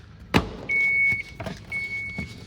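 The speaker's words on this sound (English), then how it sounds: "You're gonna hear it clip in place." Snap of a trim piece clipping into place on a Dodge Grand Caravan during a chrome delete, one sharp close click followed by fainter knocks and a steady high whine in the background.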